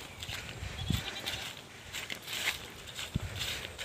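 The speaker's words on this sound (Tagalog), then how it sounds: "Ito yung mga kambing natin." Goats on a farm letting out a few short, faint bleats over a noisy background, with light movement and shuffling nearby.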